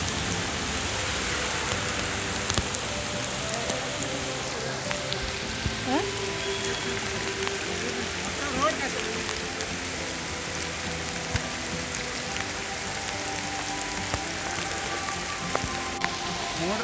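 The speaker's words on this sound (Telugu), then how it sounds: "చూసారా ఎంత పెద్ద వర్షం వస్తుంది." Heavy monsoon rain on a road trip between Araku and Vizag pours down as a dense, constant roar that fills the whole stretch, with a person speaking briefly over it.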